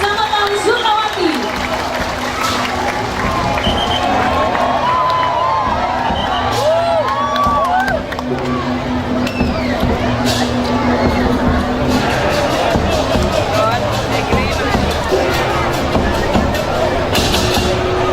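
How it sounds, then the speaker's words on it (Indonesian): A large outdoor crowd applauds and cheers during a Balinese dance parade at a Gianyar town anniversary cultural procession, with steady clapping, scattered whoops and children's shouts over continuous babble for the whole stretch. "kita beri tepuk tangan yang paling meriah."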